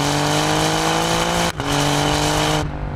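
A 2020 Alfa Romeo Giulia Quadrifoglio with a Ferrari-derived 2.9-liter twin-turbo V6 pulls hard under acceleration, a loud, close, sustained engine roar broken by a brief dip like a gear change.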